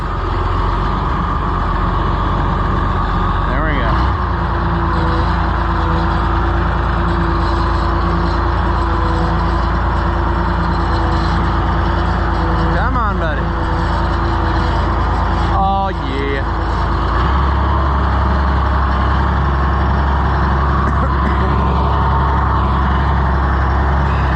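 An Oliver 1755 tractor engine running steadily, a loud close diesel idle with a constant low throb throughout, brief mechanical squeaks, and voices talking now and then.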